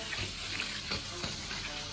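Pork belly with Sichuan peppercorns and star anise fries in fish-frying oil in a ladle-pan, a low continuous sizzle with a couple of soft scraping stirs, fairly quiet and close, no talking.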